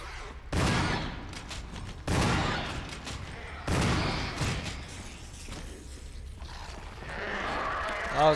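Repeated shotgun blasts in the Resident Evil remake, three loud booming reports spaced a second or two apart, each with a long decaying tail over low ambient game noise, with a final sharp thump at the end.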